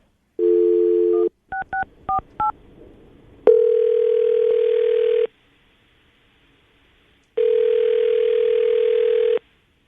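A telephone call being placed: a short dial tone, a quick run of keypad dialing beeps, then long ringback tones with a silent gap between them, loud and close.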